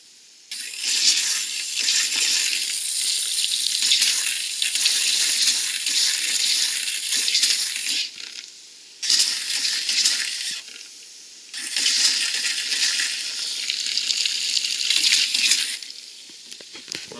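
Tap water mixed with pink RV antifreeze pours from a faucet while an RV is being winterized: a steady hiss of running water in three stretches, broken by two short pauses.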